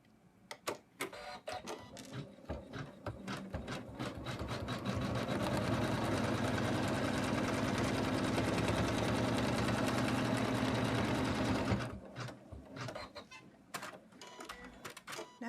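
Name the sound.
embroidery machine stitching snowman stocking in the hoop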